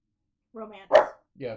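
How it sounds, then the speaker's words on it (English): A dog lets out a sharp bark close by, with another yip following, cutting across a person talking indoors. "Again, sorry for the barking."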